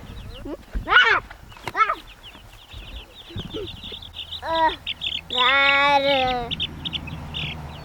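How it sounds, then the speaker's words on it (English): Week-old meat bird chicks chirping in shrill, repeated peeps and a long burst of rapid cheeping, close and fairly loud, with people talking nearby at times. "since these are a week old meat birds, I still need a heat lamp on them"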